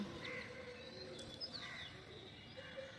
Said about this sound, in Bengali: সকালবেলা পাখির গান, কবুতরের যে